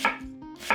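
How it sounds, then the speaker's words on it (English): A knife chops a whole onion into rings, making two crisp strikes on a board about half a second apart, each with a short ringing tail, close and clear with no speech. "I'm going to need one whole onion. Cut it into rings"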